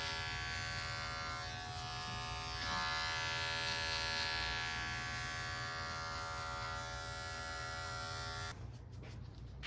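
Electric hair clippers buzz continuously and close-up while cutting a skin fade, a steady motorised hum that shifts slightly as the blade moves through hair, then gives way to scattered clicks and rustling at the end.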